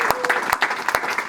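Audience applause at a testimonial evening, a dense burst of many hands clapping in a full hall with sharp individual claps standing out, steady and fairly loud throughout the brief moment.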